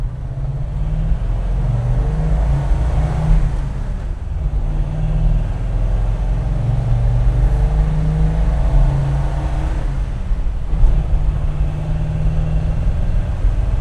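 A 1950 Mercury engine hums and pulls steadily under acceleration during a test drive, its low rumble continuous with mild swells in intensity and no talk over it.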